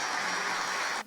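Warm applause fills a church service at a Korean prayer gathering marking the March 1st anniversary, a dense steady clapping from the congregation that cuts off abruptly near the end.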